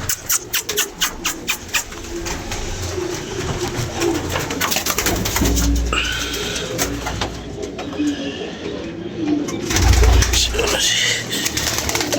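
Pigeons coo repeatedly at close range in a loft, soft throaty calls with some wing flutter. Voices talk over them throughout.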